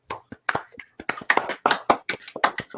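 A round of applause from hands clapping, a short burst of loud, uneven claps close by, alone without talk.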